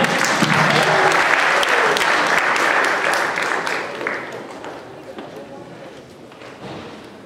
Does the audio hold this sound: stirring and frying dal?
no